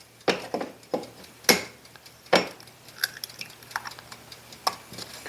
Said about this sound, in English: crack the egg